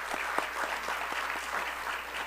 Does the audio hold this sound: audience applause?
yes